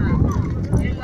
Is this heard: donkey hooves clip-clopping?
yes